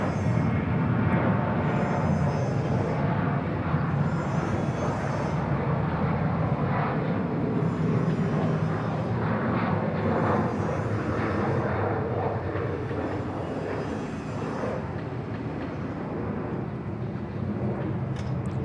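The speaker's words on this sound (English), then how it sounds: "Here we go, lovely China Eastern 737-800 special livery" A China Eastern Boeing 737-800 in special livery taking off at Bangkok's Suvarnabhumi Airport, a broad sustained jet engine roar that holds steady, loud and somewhat distant, with no talk over it.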